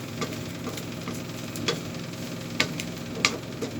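Burong isda, fermented fish, being stirred in a pan, with soft scraping and light sizzling that run steadily and close, marked by a few sharper clicks of the utensil against the pan.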